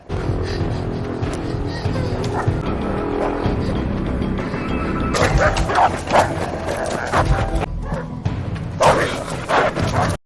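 Dogs bark in short yips amid a tense chase through woods by armed men, mixed with engine and tire-screech sounds and other busy action noise across the scene.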